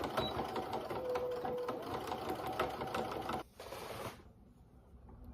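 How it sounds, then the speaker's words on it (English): A sewing machine stitches through thick fabric with a steady, fast mechanical whir for about three seconds before stopping abruptly, leaving quieter room noise. "hopefully my machine won't freak out, because this is quite thick fabric here"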